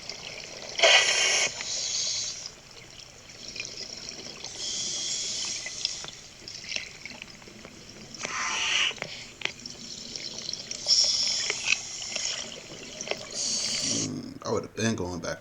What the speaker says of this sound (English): listen to his breathing as he descends